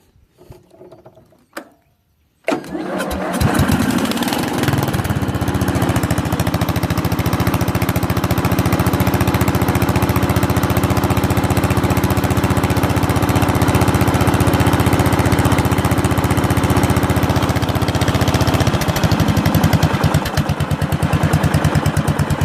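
A small MTD lawn tractor engine cranks and catches, then runs steadily and loudly, close by, with a constant droning roar and slight unevenness from an occasional misfire.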